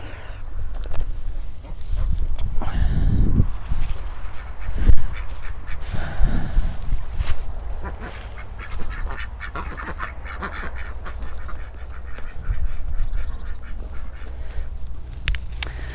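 Garden ducks quack in bursts near and far, several calls overlapping early on, then scattered quieter quacks over a soft outdoor background.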